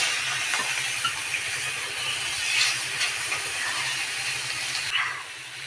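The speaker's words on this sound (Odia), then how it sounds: "ବାପରେ କେତେ ଜୋର ଜଳୁଛି ଚୁଲି।" A cooking stove burns strongly while dried fish is being fried, giving a steady close hiss and roar that holds at an even level throughout, with no voices.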